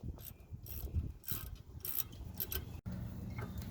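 A hand ratchet loosens the 10 mm brake caliper bolts on a 2001 Ford F150, giving close, dense runs of clicking with short pauses between bursts.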